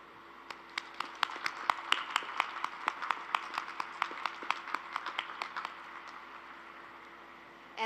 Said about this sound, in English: Please join me in applause to acknowledge the scholastic achievement of all of these